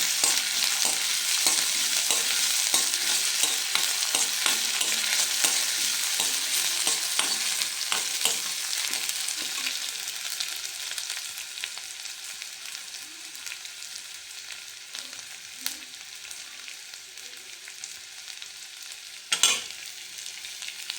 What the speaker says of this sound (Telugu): పచ్చిమిర్చి పేస్ట్ వేసేద్దాం ఇలా కొద్దిగా ఫ్రై చేసుకొని